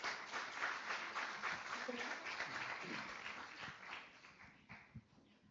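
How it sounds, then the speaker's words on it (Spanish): Audience at a corporate event welcomes the speakers with applause, a steady round of clapping that gradually fades, with faint voices underneath toward the end. "Los recibimos con un fuerte aplauso"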